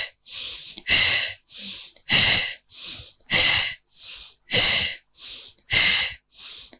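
Breathing during a Pilates abdominal exercise comes as steady, audible breaths close to the listener, with sharp inhales alternating with longer forceful exhales in a regular rhythm about twelve times.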